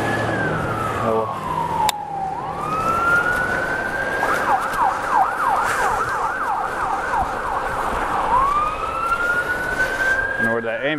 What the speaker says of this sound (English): I know where that ambulance is going.